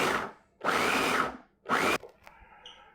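A food processor pulses chopped crab cake ingredients in two loud bursts of whirring blade noise, each about a second long, with quieter kitchen clatter between and after them.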